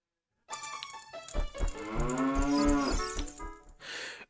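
Cow in an Ocarina of Time/Majora's Mask randomizer video game lets out a single loud, drawn-out moo lasting a few seconds, close and clear, followed by a short breathy tail.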